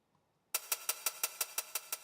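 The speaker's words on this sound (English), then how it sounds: "For the hi-hats" Drum and bass hi-hats with the lows cut away, a thin, bright, crisp tick repeating in a fast, steady, even pattern after a brief silence, close and isolated with no other instruments.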